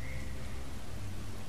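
Steady, even rain falls throughout a scene of the video game Uncharted: The Lost Legacy, a continuous hiss with no distinct drops or thunder standing out.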